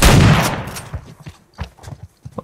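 Shotgun fire in a video game: one loud, booming blast with a long decaying tail, followed by several softer scattered thuds and clicks.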